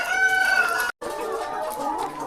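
Layer hens on a poultry farm cluck and call loudly and close by, with many birds overlapping and a rooster-like crow rising above the flock, interrupted by a brief gap of silence.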